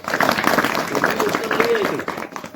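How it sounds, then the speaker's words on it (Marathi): Crowd applause and clapping at a Marathi event unveiling a portrait of Santaji Jagnade Maharaj in Saytkharda, honoring him, with voices and cheering mixed throughout the steady clapping. "जगनाडे महाराजांच्या या कार्याबद्दल त्यांच्या नावाने एकदा परत एकदा टाळ्या वाजवल्या"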